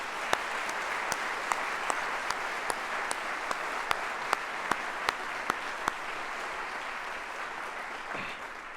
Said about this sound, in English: Please join me in another round of applause for these talented individuals